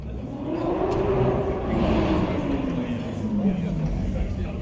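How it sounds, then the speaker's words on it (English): Two Lamborghini Aventador V12 supercars approach with a steady engine drone that builds and then holds, loud and continuous, with a slowly gliding engine tone heard beneath light talk. "Two Aventadors."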